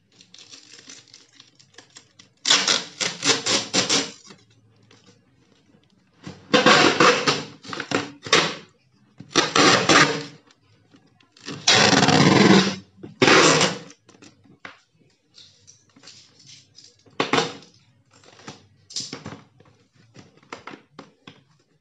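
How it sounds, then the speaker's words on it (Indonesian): Duct tape is torn and pulled off the roll in several loud, rasping bursts while being wrapped around plastic bottles tied together for a homemade chair, with quieter handling between the strips. "Kemudian kita lakban."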